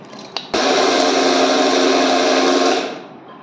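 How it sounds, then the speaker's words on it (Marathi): A mixer grinder grinds roasted chillies and curry leaves for South Indian gunpowder podi chutney, a loud steady whirring burst of about two and a half seconds after a short click, then winding down. "आता हे घालून पुन्हा बारीक मिक्सरमधनं वाटून घ्यायचं"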